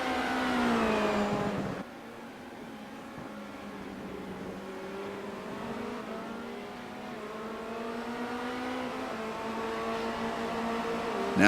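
Simulated race cars lap Silverstone in iRacing, engines revving and shifting through the Brooklands chicane and Luffield, a continuous rising and falling whine at moderate volume with a sudden drop in pitch early on.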